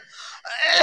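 A single cough, close and fairly loud, with a breathy start followed by a harsher burst, alone with no talking.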